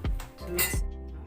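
A utensil clinks and scrapes against a bowl while tiramisu cream with vanilla sugar and full cream milk is mixed, a few bright close knocks over about a second, no voices.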